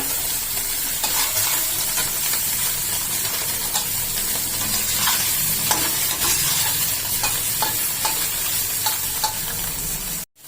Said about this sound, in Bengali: সেজন্য একটুখানি আমি ভেজে নিচ্ছি